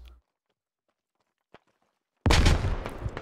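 Combat in the military shooter Squad, with gunfire and grenades: near silence with a faint tick, then a sudden loud, dense blast of noise that carries on to the end.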